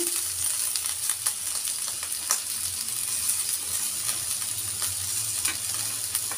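Onion, cabbage and potato frying in a pan with curry leaves, a steady close sizzle with occasional soft crackles and stirring clicks, continuous and without talk.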